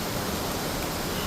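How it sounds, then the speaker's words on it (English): A waterfall beside a covered bridge in rural Ohio, a steady broadband rush of falling water filling the short moment with no voices. "the waterfall is really beautiful"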